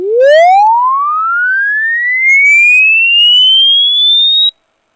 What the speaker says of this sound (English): I'd like to demonstrate this increasing tone